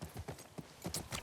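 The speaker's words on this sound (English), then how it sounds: "I don't think this is the same horse from last time, huh?" Horse hooves clip-clop in The Last of Us Part II, a steady series of sharp, close hoofbeats at a walking rhythm, with no talk over them.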